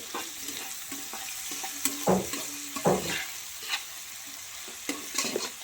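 Ivy gourd pieces frying in a pan while a spoon stirs them, with a steady sizzle broken by several louder scraping stirs near and clear.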